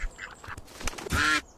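Duck quacking in the Bear Simulator video game, a few scattered quacks ending in one louder, longer quack near the close, heard close with faint game background.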